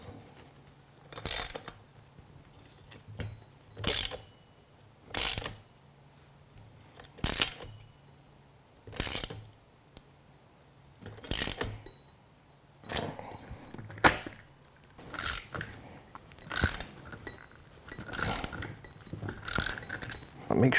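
A ratchet tightens the bolts on universal bicycle training wheels, giving repeated bursts of rapid clicking that grow quicker and more frequent toward the end, close up with no speech.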